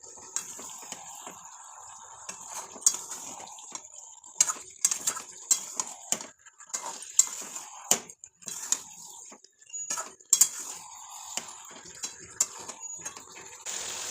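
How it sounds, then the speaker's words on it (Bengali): Meat is stirred and sautéed in a pot, a spoon knocking and scraping the metal in irregular sharp clinks over a steady high sizzle, close and fairly quiet, with no talk. "এবার ভালো করে মাংসটা কষিয়ে নেব।"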